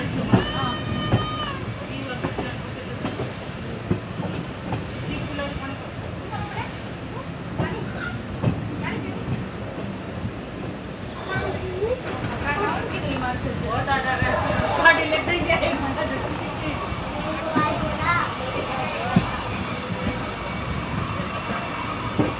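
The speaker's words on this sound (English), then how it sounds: "Passenger train departure from Pratap Nagar station." A passenger train pulls out of Pratap Nagar station, rumbling steadily nearby with rolling wheel clatter and occasional squeals, while people talk on the platform and a faint announcement sounds in the background.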